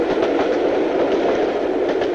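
Train passing over a level crossing with automatic half barriers, a loud, close, continuous rumble with rhythmic clickety-clack from the wheels throughout.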